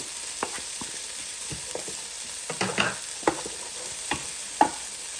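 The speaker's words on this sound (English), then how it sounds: "Put my green onions in there." Green onions stir-frying in lobster fried rice in a Power XL cooker, with a low steady sizzle broken by scattered sharp spatula scrapes and clacks, close up and without talk.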